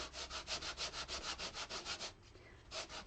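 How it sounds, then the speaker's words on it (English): Sandpaper rubs over embossed white-core cardstock in quick, even back-and-forth strokes, about a dozen rhythmic scratchy passes, a brief pause, then a few more strokes, close and without talk. "I'm just going to carefully sand over the top of the embossed piece of cardstock"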